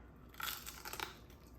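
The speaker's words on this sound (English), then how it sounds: "Do you hear that crunch?" A crunchy bite into a fried chicken wing coated in wing sauce during a mukbang: a short cluster of crisp, close crackles and crunches, quiet and without talk.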